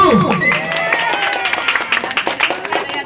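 Audience applauding a contestant, a dense burst of clapping that swells and carries on with rhythmic claps, while voices and a host's speech run over it.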